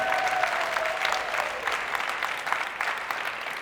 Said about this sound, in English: We can clap it up for both of them.